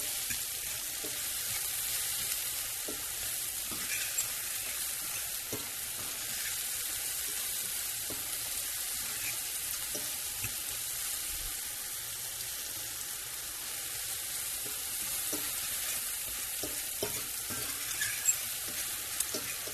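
Mushrooms cook in butter in a pan, giving a continuous soft sizzle and crackle with faint scattered pops and occasional stirring, steady and fairly quiet.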